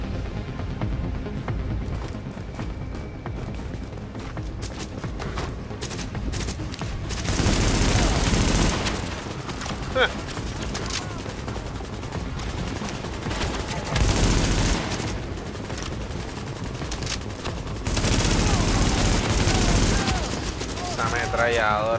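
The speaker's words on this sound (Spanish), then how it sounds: "Ametralladora, brother." Machine gun fire in the Tom Clancy's The Division shooter game, dense sustained bursts of automatic gunfire with several heavier loud volleys over constant battle noise, game music and someone talking.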